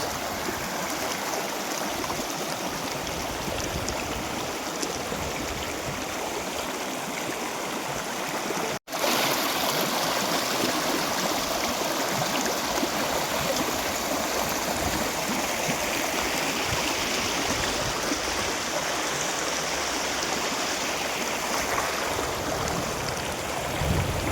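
A fresh forest stream flows steadily, a constant broadband rush of water close by with one brief dropout partway through and no talking.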